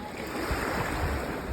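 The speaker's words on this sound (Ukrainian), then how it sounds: "Небольшая волна." Small Black Sea waves washing onto the shore in the early morning, a steady soft wash of surf with gentle low surges, fairly close and even, with faint wind.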